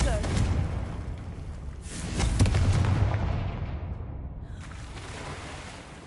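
Fiery Confringo spell blasts in Hogwarts Legacy, a booming explosion swelling and rumbling over several seconds amid crackling bursts, with a voice calling out.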